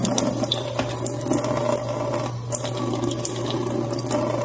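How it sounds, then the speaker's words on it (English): Tap water runs steadily from a sink faucet through a removable Samsung fridge part during defrost cleaning, a constant close splashing hiss with no talk. "So we'll just put some water through that."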